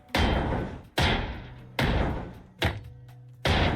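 Heavy hammer blows ring out on a ship in Ship Graveyard Simulator 2, five loud, close thunks at a steady rhythm, each with a short decaying ring.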